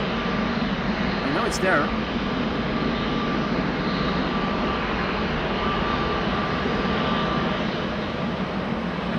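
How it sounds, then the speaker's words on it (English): Dash 8 turboprop taxiing at Amsterdam Schiphol Airport, heard as a steady broad engine roar with a faint whine, continuous throughout, with someone talking briefly over it. "there is a Dash 8 on the move"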